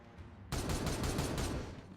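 Space Marines open fire in the Warhammer game Regicide, a sudden loud burst of rapid overlapping gunfire that starts abruptly and rolls on as a dense fusillade for about a second and a half, then eases off.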